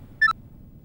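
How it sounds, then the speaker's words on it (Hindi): A short electronic phone ring in a TV drama scene, two quick high tones lasting a fraction of a second over a quiet room. "पीहू का फोन।"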